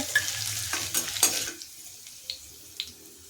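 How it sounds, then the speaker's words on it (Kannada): Green chillies frying with ginger and garlic in a pan for ragi soup, a soft sizzle under a few close scrapes and clinks of a spoon stirring against the pan, fading quieter after the first second and a half. "ಶುಂಠಿ ಬೆಳ್ಳುಳ್ಳಿ ಫ್ರೈ ಆದಮೇಲೆ ಹಸಿರು ಮೆಣಸಿನ್ಕಾಯನ್ನು ಸೇರಿಸಿ ಇದನ್ನು ಸಹ ಫ್ರೈ ಮಾಡ್ತಾಯಿದ್ದೀನಿ"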